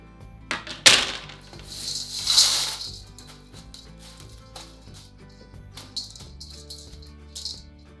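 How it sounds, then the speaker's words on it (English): Dehydrated onion pieces tipped from drying trays into big metal bowls make crisp, dry rattling clatters, with a couple of louder pours early on and then scattered light clinks and scrapes up close. "I like to just kind of unload them into these, preferably big giant metal bowls"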